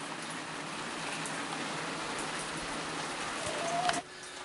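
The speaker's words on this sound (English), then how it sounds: "it's still raining. In fact, it's dripping right on me where I'm standing here" Steady rain falling and dripping outdoors, a dense continuous patter close by with a faint thump near the end.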